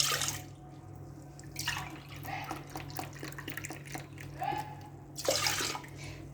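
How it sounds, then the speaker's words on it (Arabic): Half a litre of milk is poured into a saucepan, giving soft irregular liquid splashes and trickles with bursts of brighter splashing. "غادي نوضع نصف لتر من الحليب فقط"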